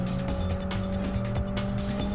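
A Mini races flat out in a driving video game, its engine droning steadily and loudly throughout with a constant mechanical hum and faint tire noise, no voices.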